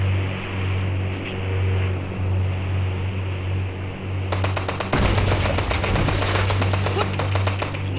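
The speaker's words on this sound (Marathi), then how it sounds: "एकेने फोडतो एकेने." An AK rifle in the video game GTA V fires a long, loud automatic burst of rapid, evenly spaced shots in the second half, after a stretch of steady engine-like ambient rumble.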